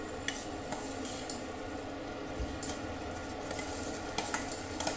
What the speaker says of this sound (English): mash the cooked millet with the back of a ladle